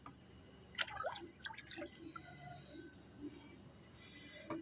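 Water used to rinse lentils trickles and drips into a container in a short, close pour, followed by scattered quiet drips.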